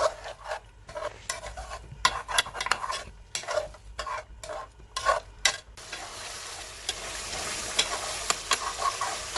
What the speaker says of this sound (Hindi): दही को भी हम तकरीबन 7 से 8 मिनट तक चिकन के अंदर अच्छी तरह से भुनाई करेंगे।